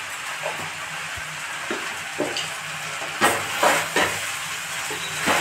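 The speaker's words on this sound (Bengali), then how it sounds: "দিয়ে ভালো করে ভাতটা নেড়ে নেব।" Rice is stirred and fried in ghee: a continuous hissing sizzle with intermittent scraping strokes of a spoon against the pan, close and moderately loud, with no talking.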